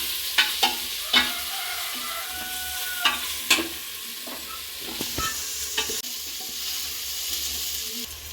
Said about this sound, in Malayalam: തക്കാളിക്ക് രണ്ട് കൊച്ചെറുത് ചെറുതായിട്ട് അരിഞ്ഞത് അത് ഇട്ട് കൊടുക്കാം നല്ലപോലെ ഇളക്കി അത് സോഫ്റ്റ് ആവണം